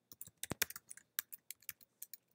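Code being typed on a computer keyboard: a close, crisp string of separate key clicks in an irregular rhythm, with small pauses between them.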